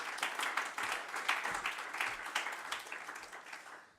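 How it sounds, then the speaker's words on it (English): A conference audience applauds a speaker, with many hands clapping in a dense, steady patter heard at a moderate distance that gradually fades toward the end. "But will you please give it up for Anna Rafferty?"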